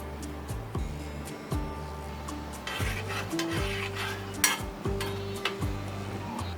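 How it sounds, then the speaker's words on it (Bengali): Spices being stirred into water in a pot, with repeated spoon scrapes and clinks against the metal over a faint low hum and a tonal background drone. "সবগুলো মশলা জলের সাথে ভালো করে মিশিয়ে নিচ্ছি।"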